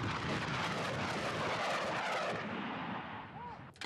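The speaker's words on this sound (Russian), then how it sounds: "По пылевым опорным пунктам исламистов работают и расчеты реактивных систем залпового огня" Grad multiple rocket launchers firing salvos at Islamist strongpoints in Syria, heard as a loud, sustained roaring rush of launches that stays strong and then thins out toward the end.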